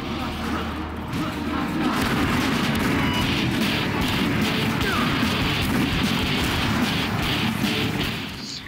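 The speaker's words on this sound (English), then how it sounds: "And there is the freeze fire." Freeze fire weapon discharging in the Painkiller Redemption video game, a dense, loud, continuous barrage of crashing, crackling blasts that holds steady for several seconds before tapering off at the end.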